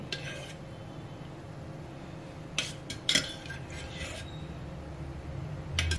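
A large metal spoon clatters against a kadhai holding oil in a home kitchen, with a few sharp metallic clinks and scrapes over a quiet background.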